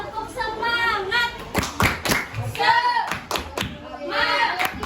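A group in a classroom-style session claps a rhythmic pattern, tepuk semangat, as a series of sharp, uneven claps. Voices call out between and over the claps.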